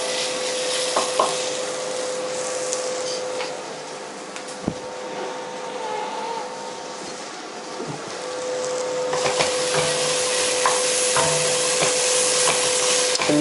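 Spices for a madras-style monkfish curry sizzle and crackle steadily in a hot pan, with a spoon scraping and stirring through them at close range and no talk.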